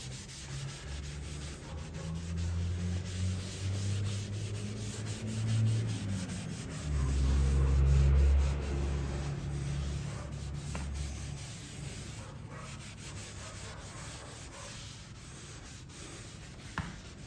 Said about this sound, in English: So I'm going to put some boiled linseed oil on this